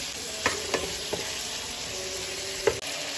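Potatoes, chickpeas and carrots, already softened in ghee, tipped into a broccoli curry pan, giving a steady frying sizzle with a few sharp clatters of stirring and additions along the way.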